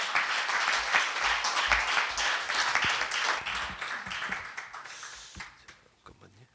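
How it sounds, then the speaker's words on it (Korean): Audience applause welcoming a speaker at a lecture, steady clapping from a crowd that gradually thins and fades out. "큰 박수로 맞아주시길 바라겠습니다"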